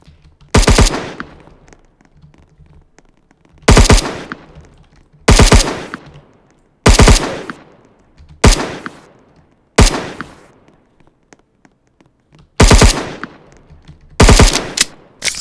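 A Marine AI character in the Roblox video game fires a machine gun in sharp, loud bursts. About eight separate volleys, each a rapid crack that fades quickly, are spaced a second or two apart with near silence between them.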